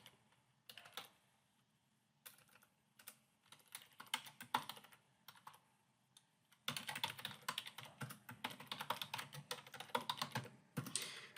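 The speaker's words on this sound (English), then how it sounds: "I guess I have to type it in." Fingers tap on a computer keyboard while entering payroll data, sparse scattered keystrokes at first, then a faster, denser run of clicks close to the microphone.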